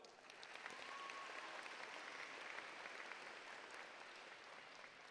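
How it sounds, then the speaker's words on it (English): A crowd at a high school graduation ceremony gives a round of applause, a faint, sustained and even roar of many hands heard from a distance. "let's give them a round of applause"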